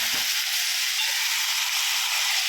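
Carrots and beans sizzle and hiss steadily in a hot pan for vegetable fried rice, a constant bright frying noise with a brief clatter near the start.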